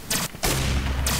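Submachine gun fire in a competitive match on the Legacy map, heard as two loud bursts of rapid shots separated by short pauses, close and with nobody talking over them.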